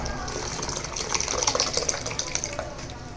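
Cooking water from boiled horse gram is poured into a pot of kollu rasam, giving a soft, steady splashing gush that swells in the middle.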